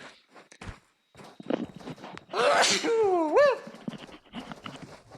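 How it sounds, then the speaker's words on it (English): A single loud sneeze bursts out close by, preceded by shuffling and a sharp breath, then quiet movement noises. "Oop, I'm going to sneeze."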